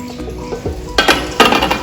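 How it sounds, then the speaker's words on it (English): A spatula scrapes down the sides of a Thermomix bowl holding chopped kebab ingredients, giving close, loud scraping and clinking strokes, with two sharp bursts in the second half over a steady kitchen hum. "I'm going to scrape down the sides of the bowl."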